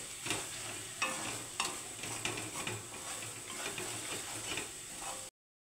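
A spoon stirs okra and tomato curry with fresh coriander in a pan, a soft sizzle running underneath repeated scraping strokes, close and fairly quiet.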